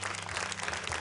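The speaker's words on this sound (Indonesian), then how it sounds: "Iya, tepuk tangan buat Mela." Audience applause in a TV studio during the semifinal round of an Indonesian Quran recitation competition, a short, steady burst of clapping with no voices.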